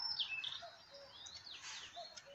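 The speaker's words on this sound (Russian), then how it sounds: "Просто послушайте пение птиц." Birds sing by a lake in the wild, with faint chirps and short whistled calls scattered over a quiet outdoor background.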